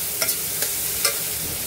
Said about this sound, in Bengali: এইবার এটাকে ভাজতে হবে ভালো করে